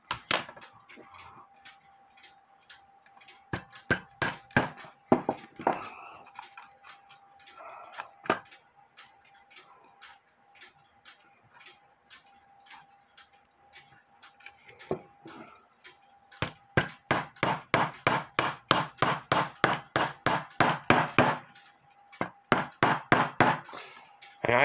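Sharp wooden knocks from a tool being hammered into wood during a cuckoo clock repair, scattered at first, then a fast steady run of strikes, with a faint hum underneath.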